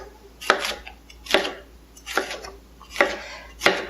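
Red and yellow bell peppers chopped on a cutting board, five distinct knife strikes spaced about a second apart, close and clear with no talk.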